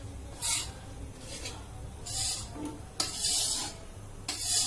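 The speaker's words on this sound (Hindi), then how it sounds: "अब इसको हम मीडियम आंच पे कढ़ाई में सेक लेंगे" Dry gram flour (besan) is stirred and roasted without ghee in a wok over medium heat, with periodic loud scraping sweeps of a spatula across the pan, close up, in a steady rhythm with brief pauses between strokes.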